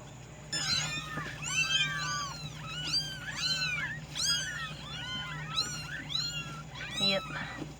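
Newborn kittens from a litter of seven mew in high, overlapping cries, repeated in quick bursts throughout, close and fairly loud over a steady low hum.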